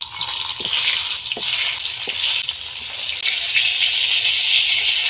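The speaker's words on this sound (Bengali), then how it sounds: "এবার পটলগুলো আমি হালকা ভেজে নেব।" Pointed gourds (potol) sizzle and crackle in hot mustard oil in a wok, a loud, steady frying hiss with a few soft stirring knocks, no voices.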